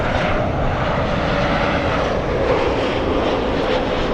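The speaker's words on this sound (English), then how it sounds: "Delta A380, this one flying to Orlando, Florida." Delta jet airliner at Los Angeles airport bound for Orlando, a loud continuous engine roar with a faint tonal whine, held steady throughout.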